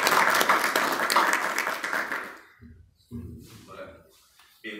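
Audience applause in a lecture hall ahead of an accounting and information-technology talk, a dense, steady clapping that fills the first half and then fades out, followed by a few brief bits of speech.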